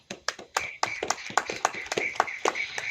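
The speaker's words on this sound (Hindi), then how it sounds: "ताली बजाओ।" A church congregation claps in a steady rhythm during a Hindi sermon, about four sharp claps per second, close and fairly loud, with a faint sustained voice or tone running beneath.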